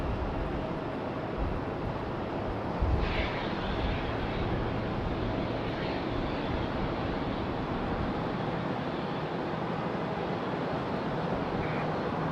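An Alaska Airlines jet, flight 572 bound for Seattle, passes during plane spotting at Raleigh-Durham International Airport; a steady, broad roar fills the whole stretch at even loudness, with wind buffeting the microphone.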